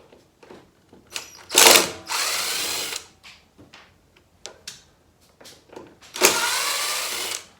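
A power tool drives out screws from the bracket holding a 1-inch saw blade, sounding in short ratcheting bursts and two longer loud whirring runs with quieter taps and handling between them.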